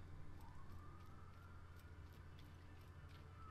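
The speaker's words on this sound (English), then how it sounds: "there's a police siren going on" A police siren wails faintly outside a window, a distant rising and falling tone that carries on for several seconds beneath a low indoor hum.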